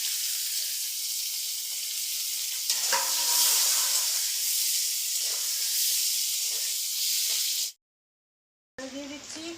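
Chopped ginger and green chili sizzle loudly in a hot pan, a continuous bright frying hiss with soft stirring scrapes, which cuts out abruptly near the end.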